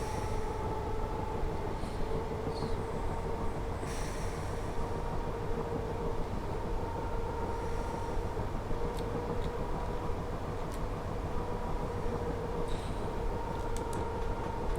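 A train in Train Simulator Classic runs steadily uphill with a constant rumbling drone and a steady motor hum, occasional faint clicks and knocks on top, and no one talking.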